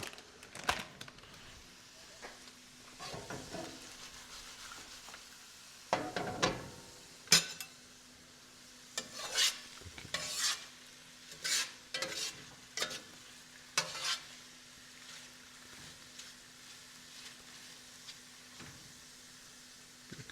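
Onions for a beef stroganoff sizzle steadily in a pan, with repeated scraping and clattering stirs of a utensil breaking through at irregular intervals, close and fairly quiet, with no talking.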